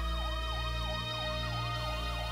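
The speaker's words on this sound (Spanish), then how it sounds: "Empiezan a sonar las sirenas." Emergency sirens wail in a repeating rising-and-falling pattern, loud and continuous over a steady low hum, heard near a prison on Gran Avenida alongside a fire station.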